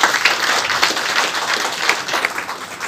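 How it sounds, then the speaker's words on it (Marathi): Audience applause at a felicitation ceremony, a steady wash of clapping hands that holds evenly for about three seconds with small louder bursts, no voices over it. "कमीत कमी टाळ्या वाजून आपण त्यांचा सन्मान करावा अशी मी विनंती करतो."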